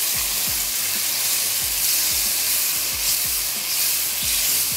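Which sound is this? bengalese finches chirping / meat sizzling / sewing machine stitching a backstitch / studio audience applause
meat sizzling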